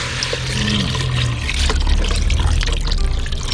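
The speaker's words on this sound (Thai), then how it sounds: "เอาน้ำใส่ลงไปเลยครับ" Water pours into a pot of Northern Thai pork leg curry, a steady splashing, gurgling rush that grows fuller partway through, close and fairly loud with no talking.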